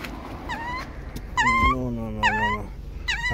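A puppy in serious condition whimpers close by in repeated thin, high, wavering cries, with short pauses between them and faint background noise.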